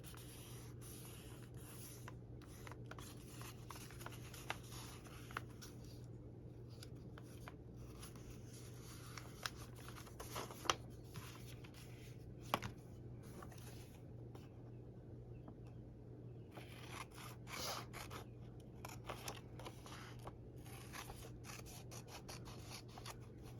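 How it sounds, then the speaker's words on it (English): Scissors cutting collage paper to size for a junk journal, quiet intermittent snips and rustles over a steady low background hum, close and faint, with no talking. "I'm just going to eyeball it here and fold it and then cut it to size."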